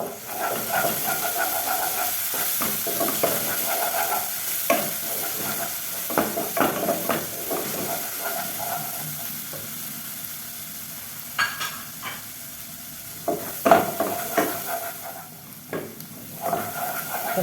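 Cardamom, cloves and cinnamon frying in oil with ginger-garlic paste, giving a steady close hiss and sizzle broken by occasional stirring clatters and scrapes, with no voices.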